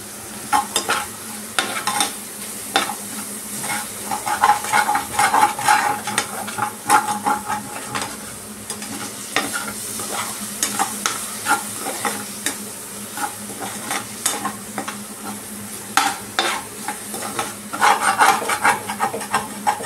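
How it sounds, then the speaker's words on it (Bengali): Spices for a basa fish curry in coconut milk fry in a pan, giving a close, continuous sizzle broken by repeated scraping strokes of stirring, with no talking. "এটা দেখুন প্রায় ভালো করে ভাজা ভাজা হয়ে গেছে।"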